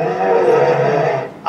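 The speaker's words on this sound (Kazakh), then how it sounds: "Аю." Bear roaring in one loud, sustained, rough growl lasting over a second, close and alone, ending in an abrupt cutoff.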